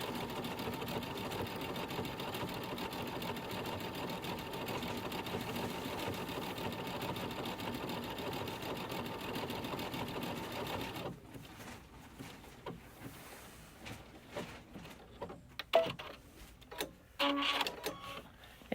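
Computerized sewing machine (Luminaire/Solaris) running a taper stitch, a steady dense mechanical whir for about eleven seconds that then stops, followed by sparse clicks and light handling noises.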